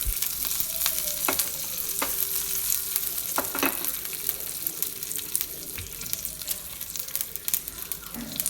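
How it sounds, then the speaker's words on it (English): Jeera, mustard seeds and curry leaves sizzle steadily in hot ghee, a continuous close frying hiss broken by sharp pops and crackles as the spices spit, with occasional spoon scrapes and no talking. "Once our ghee is hot, I'll add jeera and mustard seeds, curry leaves"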